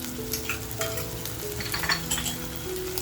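Masala sizzles and fries in a pan for kharda egg masala with green chillies, turmeric and homemade spice mix, a steady close crackle throughout with a faint melody playing underneath.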